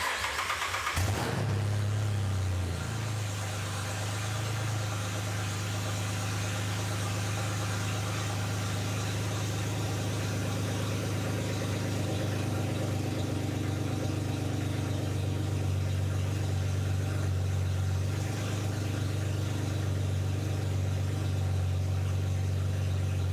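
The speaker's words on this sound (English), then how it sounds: "let's go ahead and try and start it" A Mazda RX-8 swapped with a GM LFX V6 cranks and fires, then settles into a loud, steady idle with a deep, even drone that holds throughout, with a slight rise in revs near the end.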